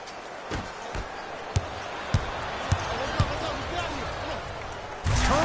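Basketball slam dunk in the NBA Live 19 video game: several sharp ball bounces sound at regular intervals over arena crowd noise, then a louder burst near the end. Commentators talk throughout.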